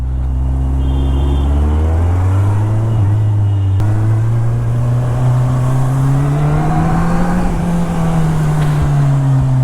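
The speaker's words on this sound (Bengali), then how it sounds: "তো আপাতত আমি এখন স্টক এক্সস্ট গাড়ি নিয়ে এগোচ্ছি। সাউন্ডটা sweet but not so loud." A Kawasaki Ninja 1000 motorcycle on its stock exhaust is ridden along a road, giving a steady, fairly loud engine drone that rises and falls gently with the throttle and continues without talk.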